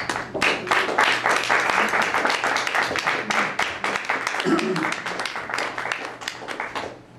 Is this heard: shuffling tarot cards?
no